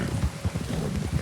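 Horse hooves clip-clopping in a video game, a quick steady rhythm of hoofbeats close by with faint wind noise and no talking.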